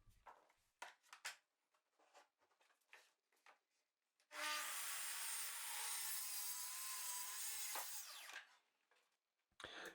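A saw cuts a wooden board to size in one sustained loud burst of about four seconds, preceded and followed by quieter handling clatter and rustling.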